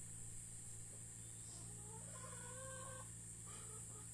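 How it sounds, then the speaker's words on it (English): A chicken clucking softly in the distance, a few short faint calls under a constant steady hum and hiss. "Be as happy as that chicken."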